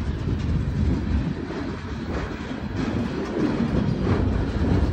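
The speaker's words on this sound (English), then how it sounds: "Still got more freight cars coming your way." A CSX eastbound mixed freight train rolls steadily past at close range, its cars producing a loud, continuous rumble with faint rhythmic wheel clatter and no voices over it.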